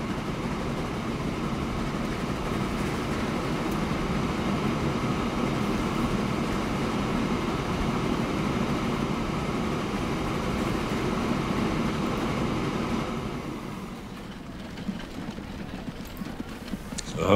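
A freight train in the game Transport Fever labours uphill with a steady, low mechanical rumble that holds evenly for most of its length, then drops away near the end.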